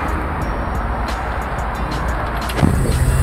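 An AM General Humvee drives with a loud, steady low engine rumble and road noise heard from close by. A brief rattle or thump comes near the end.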